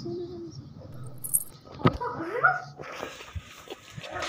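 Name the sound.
dogs barking at night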